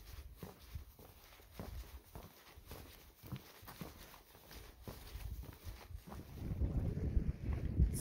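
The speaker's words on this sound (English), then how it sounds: "It's super windy out here" Strong wind buffets the Daisy Farm dock at Isle Royale National Park, a rough, gusty rumble on the microphone that swells louder toward the end, with scattered thumping steps beneath it and no talk.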